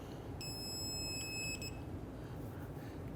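A digital torque wrench tightening a tie rod end nut on a Dodge Charger gives one clear electronic beep of about a second, followed by a brief fainter tone, over a quiet background.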